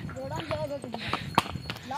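Horse hooves clip-clop in an uneven walking rhythm during a horse ride near Sanasar Lake, fairly close but partly under people talking throughout.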